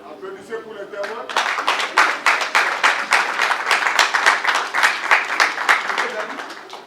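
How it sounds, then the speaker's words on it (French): Applause breaks out at a civil wedding ceremony for the witnesses, many hands clapping in a dense steady patter that swells after a brief quieter start and carries on loudly throughout. "Applaudissez pour les témoins."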